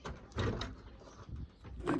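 Door of a 1956 Cadillac Series 62 being opened, with a few close clunks and a creaking swing spread over a couple of seconds, no talk.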